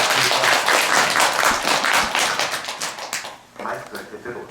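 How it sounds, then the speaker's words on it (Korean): Audience applause welcoming a doctor giving a lecture on cancer at a Buddhist temple dharma gathering, dense clapping from a crowd that swells and then thins out near the end, with a voice speaking over it. "김웅수 박사님께 큰 박수로"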